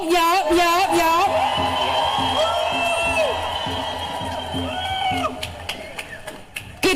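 A protest crowd in the Houston area cheers and claps for Senator Molly Cook, a loud sustained roar with whoops, then scattered claps and taps as it fades; a voice is heard shouting over the start.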